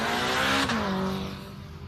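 A boosted four-cylinder Ford Cortina with a manual gearbox launches down a drag strip at Warwick Dragway. Its engine gives a loud, close roar whose pitch drops as it shifts and pulls away, with a touch of tyre squeal.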